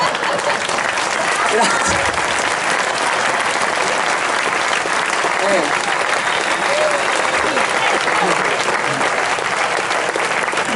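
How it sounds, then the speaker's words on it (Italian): An audience at an outdoor comedy show applauds with steady, dense clapping that holds at an even level, while a voice speaks briefly over it. "Voi ridete, applaudite"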